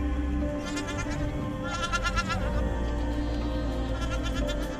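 Goats bleat over and over near a goat herder, a dense chorus of wavering, nasal calls that overlap continuously and fill the scene at close to moderate distance.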